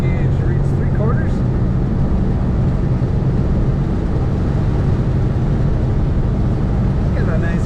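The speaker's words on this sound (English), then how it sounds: "we're in 4th gear, approaching 50 miles an hour" A 1968 Volkswagen Beetle in fourth gear near 50 miles an hour, its steady loud engine drone and road rumble filling the cabin without a break, with someone talking over it.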